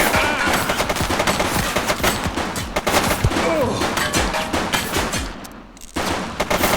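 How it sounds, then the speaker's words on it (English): Rapid bursts of gunfire from the police video game The Precinct, loud and close, with dense repeated shots and automatic volleys running almost continuously, one brief lull near the end before firing resumes. "Shots fired!"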